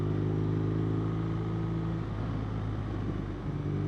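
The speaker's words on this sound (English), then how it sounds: "Engine braking is very strong on this." A 2016 BMW R nineT motorcycle engine braking, a close, loud, low steady engine drone with a dip in pitch midway, rumbling continuously under wind without talk.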